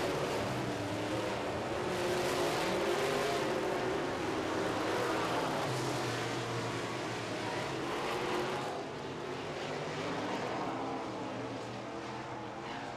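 Modified race cars on an asphalt oval roar in a steady, loud wash of engine noise, with a dense blur of overlapping motors holding throughout as the field circles the track.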